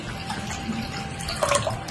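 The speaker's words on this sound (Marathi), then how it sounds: "आता याच्यात आपल्याला पाणी घालून घ्यायचे गरजेनुसार" Water is poured into a spiced pani puri mixture made with green chillies, giving a brief, steady splashing flow with a short burst of louder liquid sound near the end.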